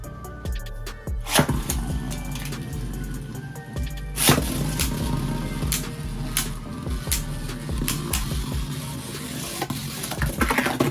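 Takara Tomy Beyblade Burst QuadStrike tops, Chain Kerbeus against Divine Belfyre, whir and scrape inside a plastic stadium, with sharp clacks from the launch and from repeated collisions, all close and loud.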